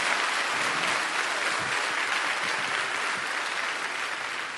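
A church congregation applauds in a steady, dense wash of clapping that fills the whole stretch evenly without letting up.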